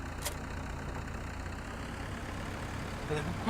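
A tractor engine idles steadily while being parked in Farming Simulator, a continuous low, even hum at moderate level with a faint click or two toward the end.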